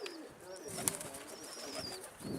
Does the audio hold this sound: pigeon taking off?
yes